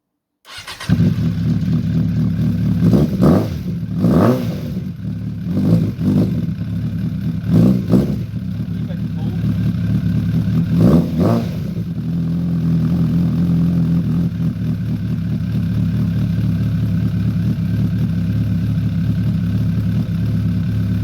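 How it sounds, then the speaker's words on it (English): Suzuki Inazuma motorcycle with a swapped exhaust canister, started with the clutch pulled in, then settling into a steady, loud close-up idle after a few sharp blips of the throttle. "I'm going to start it up and let you hear it."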